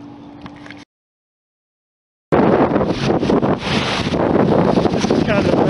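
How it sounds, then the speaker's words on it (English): Strong wind at the Clinton Lake dam in Lawrence, Kansas, in October, buffets the microphone in loud, continuous gusty roaring after a brief pause, with a voice audible over it. "way too windy to fish the dam today"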